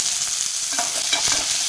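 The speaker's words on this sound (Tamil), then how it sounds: "வெங்காயத்தை நல்லா வணக்கிக்கலாம்" Onions sauté in groundnut oil for a cauliflower gravy, giving a constant close sizzle with a few soft scraping stirs partway through and no voices.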